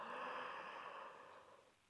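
A big yawn during a yoga class, heard as a soft, breathy exhalation that fades out over about two seconds, quiet and close with no talking.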